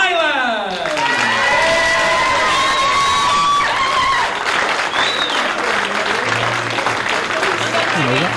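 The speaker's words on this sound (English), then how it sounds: "a big round of applause for Team England" A large crowd applauding and cheering as the England and Ireland teams walk out for a men's team final, loud sustained clapping with whistles and shouts, an announcer's voice carrying over it.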